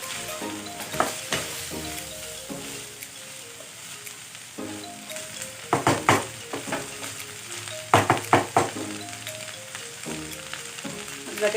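Chicken bopis sizzles in a pan while being stirred, a constant close frying hiss broken by several clattering bursts of spatula scraping against the pan.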